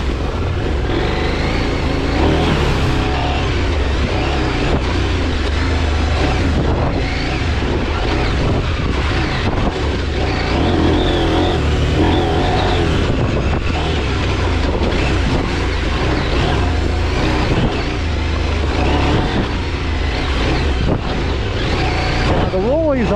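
KTM 790 Adventure motorcycle riding an off-road trail, its engine droning steadily and loudly throughout with heavy wind buffeting over the microphone and no pauses.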